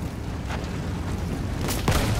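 Field gun shells bursting on a World War I battlefield in Battlefield 1, with a sharp blast near the end over a steady rumbling din of distant fire.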